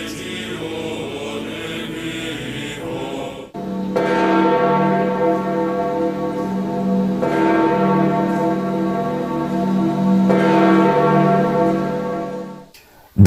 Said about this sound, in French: les cloches de Rome ont résonné longuement